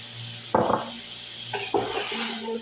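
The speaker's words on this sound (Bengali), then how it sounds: "ভালো করে একটু নাড়াচাড়া করে নিলাম" A spatula scrapes and knocks twice against a pan of sizzling mutton with onion and garlic paste, close and clear over a constant frying hiss.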